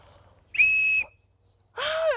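A handmade whistle, its reed glued into the body, gives two short, bright, piercing blasts in a quiet room, the first steady and the second slightly wavering.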